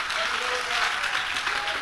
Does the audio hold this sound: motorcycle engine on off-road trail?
no